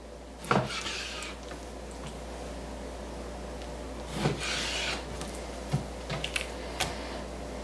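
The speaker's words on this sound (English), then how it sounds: "I'm going to cut these in about 2-inch" A knife cuts pork tenderloin into roughly 2-inch pieces on a board, giving a few separate dull chops and scraping strokes, spaced irregularly, close and fairly quiet over a steady low hum.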